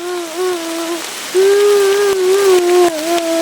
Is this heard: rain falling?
yes